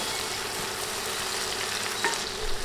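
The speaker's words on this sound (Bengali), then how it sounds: "নেড়ে বাটা মশলাগুলো তিরিশ সেকেন্ড ভেজে নেব" Garlic and ginger paste fry in a pan with a soft, steady sizzle throughout, a brief scrape of stirring around the middle and no talking.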